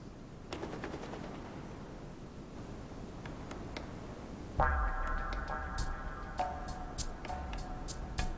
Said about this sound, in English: the bird is hard at work chopping a hole deep into the core of what looks like a healthy fir tree